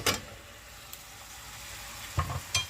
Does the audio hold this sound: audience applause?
no